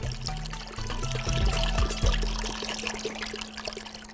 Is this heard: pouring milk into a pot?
yes